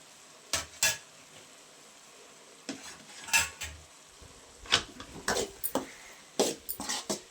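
Cluster bean curry cooking in a pan with chili powder and coriander powder, quiet sizzling under sharp, irregular clinks and scrapes of a metal spoon against the vessel.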